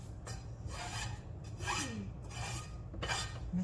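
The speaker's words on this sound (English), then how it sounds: "And scrape that into the pot." A utensil or knife scrapes chopped greens off a green cutting board into a cooking pot, giving several short rasping strokes at close range with no talking.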